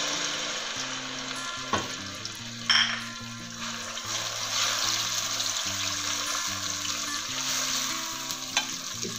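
Garlic ginger paste sizzles in hot oil with white cumin seeds for a steady, close frying hiss, broken by a few clinks of a stirring spoon, while soft background music plays underneath.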